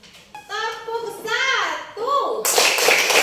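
Children in a classroom counting clap game, with a few hand claps at first, then a dense burst of many children clapping together near the end, mixed with young voices chanting.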